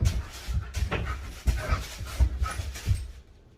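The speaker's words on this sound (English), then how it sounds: "the dogs are going at it" Dogs romp and play close by indoors at night, their panting and huffing coming in quick rhythmic bursts alongside scuffling movement, with no talking.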